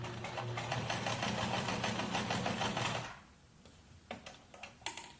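A sewing machine stitches face mask fabric in a fast, even, whirring run of needle strokes for about three seconds, then stops, leaving a few faint clicks and handling noises.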